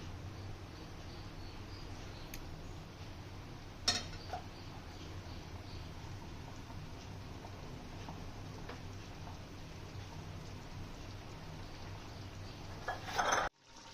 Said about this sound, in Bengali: মাংসটাকে ভালোভাবে কষিয়ে নেবো।